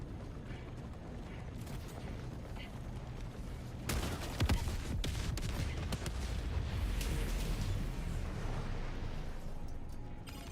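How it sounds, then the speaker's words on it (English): Cannon towers fire and blow up in a video game, with a sudden burst of booming blasts and crackling impacts that continue loudly over a steady mechanical rumble. "there's giant fucking cannon towers that keep blowing us up"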